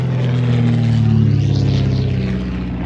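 Grosvenor House, a tricky-to-handle twin-engined racing aircraft, flying at a Shuttleworth race day air show, its loud steady propeller drone holding close throughout with a slight swell in the middle.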